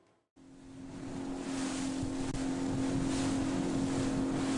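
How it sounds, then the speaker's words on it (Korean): A high-speed patrol boat runs at sea, its engine drone rising out of a near-silent start into a steady roar, with rushing water and wind around it. "고속단정이 시속 60km 넘게 달리면 보통 사람은 다리가 후들거려서 서 있기도 힘듭니다"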